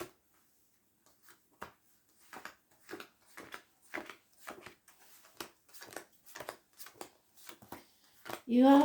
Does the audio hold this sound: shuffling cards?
yes